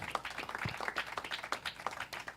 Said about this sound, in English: Live audience claps.